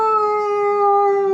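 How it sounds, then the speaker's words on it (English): Howling sound from a musical greeting card, a steady electronic wail with strong sustained tones lasting the whole moment, loud and close with no talking. "I love the howling card."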